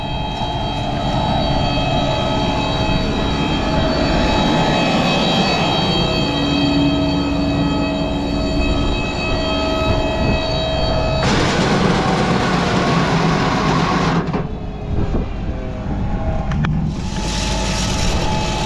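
An old tractor's heavy engine drones continuously up close, a loud mechanical rumble with steady whining tones that shift slightly partway through, no talking.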